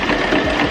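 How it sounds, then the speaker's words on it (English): A sewing machine stitching a wig runs in a steady, close, continuous mechanical whir, heard alone. "If you want, you can still reverse it and then start sewing."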